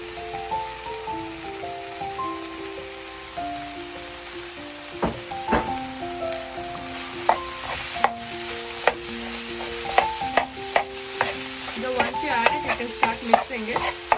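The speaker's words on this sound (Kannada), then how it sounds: "ಡ್ರೈ ಗೋಬಿ ಆಡ್ ಮಾಡ್ಕೊಳ್ತಾ ಇದ್ದೀನಿ ಸೊ ಆಡ್ ಮಾಡಿ then I will mix it" Dry fried cauliflower for Gobi Manchurian is stirred in a hot pan, with a sizzling hiss under repeated scraping and clattering strokes of the spoon that grow busier and louder as the mixing goes on, and no talking.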